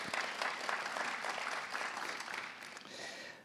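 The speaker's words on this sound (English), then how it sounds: "why don't give her a round of applause" A church congregation claps steadily, the applause loud at first and gradually thinning toward the end.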